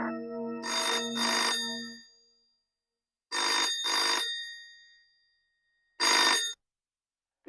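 Telephone ringing at a police station: three separate bursts of a loud, close electronic ring, each a quick double pulse, with silent gaps between them and no voices.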